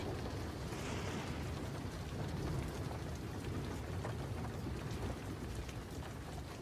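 Heavy rain pours down steadily, a dense, continuous hiss of drops drumming on surfaces, close and loud throughout with no voices.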